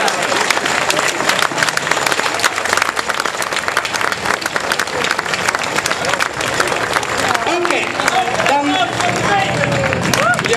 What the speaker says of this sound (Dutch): Dames en heren, een applaus voor Noemke Lalex.